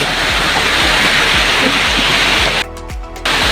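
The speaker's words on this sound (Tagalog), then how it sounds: "mag aabang na lang tayo kung hupa pa itong ulan" Heavy rain pours down steadily during a blackout near a landslide-damaged fishing spot, a loud dense wash with no voices, briefly dipping near the end before resuming.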